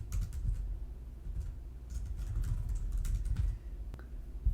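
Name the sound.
typing on a computer keyboard into form inputs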